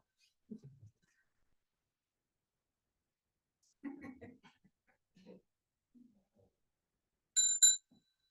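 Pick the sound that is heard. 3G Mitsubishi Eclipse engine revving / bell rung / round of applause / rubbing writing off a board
bell rung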